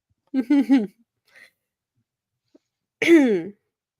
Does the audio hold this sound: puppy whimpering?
no